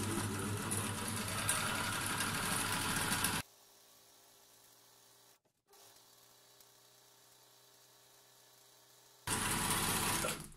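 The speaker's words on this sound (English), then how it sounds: "what I'm going to do now is overlock all four edges" An old overlocker sewing machine overlocks fabric edges with a loud, fast mechanical whir that runs for a few seconds, stops for a long quiet stretch, then starts up again near the end.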